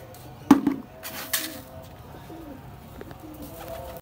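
Pigeons scattered on grain give a few soft, low coos close by, with a sharp tap and brief rustles in a quiet setting.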